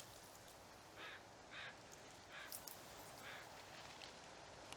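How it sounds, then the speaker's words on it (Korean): A crow caws several times in the video game The Forest, short hoarse calls spaced about a second apart, faint and distant over a quiet windy background. "까마귀 소리만 나고,"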